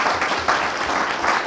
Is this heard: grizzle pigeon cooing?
no